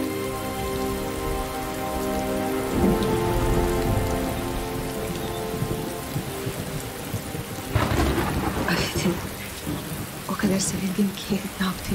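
Steady rain pours on a surface with low thunder rumbling through it, a louder crack or rumble near the eight-second mark, and brief sounds that fit soft voices over the storm.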